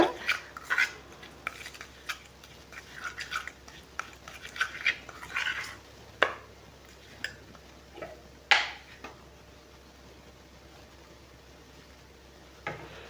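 A spoon mixes a homemade hair-oil powder into aloe vera gel, making sporadic light clinks and taps against the container for several seconds before the sound fades to near silence, with one last soft tap at the end.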